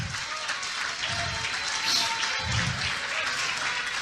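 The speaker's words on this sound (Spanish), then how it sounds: "Pronto esos aplausos van a terminar." Sustained applause from a church congregation, many hands clapping in a continuous even roar that holds at a steady level throughout.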